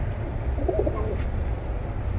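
Soft pigeon cooing rises briefly over a steady low rumble, fairly faint and somewhat distant, with no talking.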